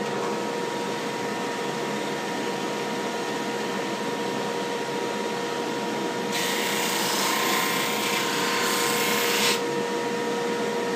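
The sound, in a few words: dust collector running in woodworking shop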